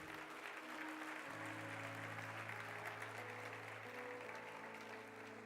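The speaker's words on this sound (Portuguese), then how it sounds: "Pode aplaudir o Senhor." A church congregation claps faintly and steadily for several seconds beneath sustained organ or keyboard chords, the applause soft and distant.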